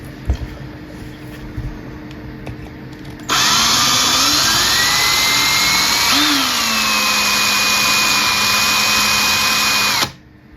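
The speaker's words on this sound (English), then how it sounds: "Right then, drill." A power drill whirs loudly and steadily for several seconds, pitch rising as it bites in, after a quiet start with faint clicks, then stops abruptly.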